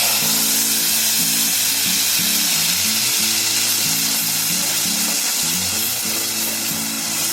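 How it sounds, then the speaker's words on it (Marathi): Tomato paste goes into cumin and asafoetida frying in a pan, giving a loud, continuous sizzling hiss with a steady bubbling undertone and no talking. "आता त्याच्यामध्ये टोमॅटोची पेस्ट टाकते."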